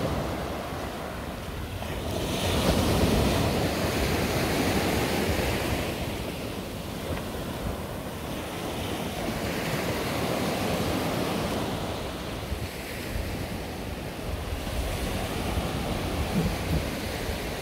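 Ocean surf breaking on Mamucabinhas beach in Barreiros, on the southern coast of Pernambuco, a broad steady roar that swells and eases in slow waves, with wind buffeting the microphone and no voices.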